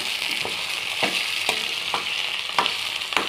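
Onion, green chilli, tomato and carrot sizzling steadily in hot oil for a vegetable chutney, with a constant frying hiss and periodic soft scrape-and-stir bursts about every half second.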